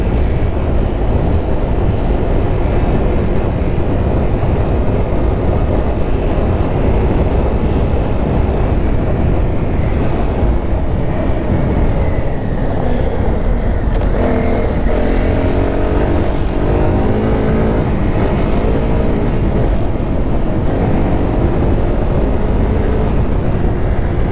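A motorcycle on fresh new tyres rides and accelerates along a road, engine loud and close under constant wind roar, the pitch climbing through rising revs in the middle stretch.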